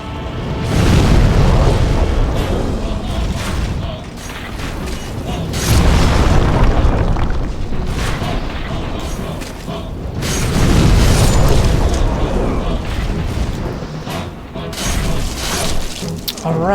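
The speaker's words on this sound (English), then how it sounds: "his arrow like a magic beam up to you when you're on the ramparts here, and it explodes" In the dark fantasy game Demon's Souls, magic arrows fired at the castle ramparts explode in loud, booming bursts that swell and fade every few seconds over a dense, continuous rumble of game noise.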